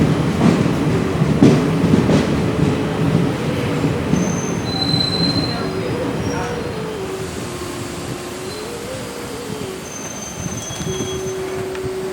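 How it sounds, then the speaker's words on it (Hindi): A train pulling out of Bimlagarh junction rumbles steadily while its wheels squeal in long, wavering high screeches, loud and close, with no talking. "देखिए हमारी ट्रेन बिमलगढ़ जंक्शन से खुल चुकी है"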